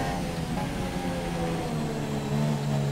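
A damaged Formula 1 race car engine in the F1 2017 video game at Monza drones steadily at high revs, a continuous buzzing tone under broadband noise, held fairly constant and moderately loud with no talking.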